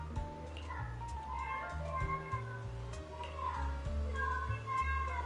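A cat meows in a video game, a series of short, repeated meows over a layer of stepped electronic game tones, with no one speaking.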